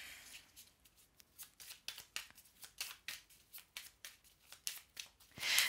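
A deck of cards being shuffled up close, with a quick run of crisp riffling bursts that speed into a dense flurry, ending in a louder final shuffle. No one speaks.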